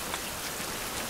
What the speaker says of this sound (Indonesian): Hujan dong.